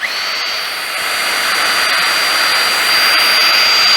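A Worx HydroShot 40v portable cleaning system primes and runs with a continuous, steady high-pitched whine from its motor and pump, close and loud, holding constant with no talking.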